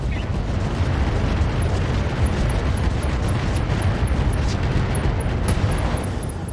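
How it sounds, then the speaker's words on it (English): A mech firing all of its weapons in Roguetech, a dense, continuous roar of booms and bursts that holds steady and loud for several seconds. "Firing everything I've got."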